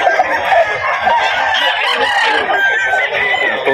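A sweater-bloodline gamefowl rooster clucks and calls close by amid the murmur of a poultry gathering, a dense continuous run of throaty chatter with faint voices underneath.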